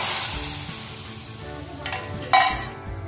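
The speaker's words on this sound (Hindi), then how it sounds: "देखिए अब हम तड़का दाल में डाल देंगे।" Hot tadka tempering sizzles as it is poured into palak dal, a frying hiss that swells with a sharp burst of sizzle near the end, close and alone.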